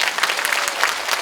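A crowd at a Democratic Party lecture event in Jungnang applauds, a dense and loud wash of many hands clapping together without a break.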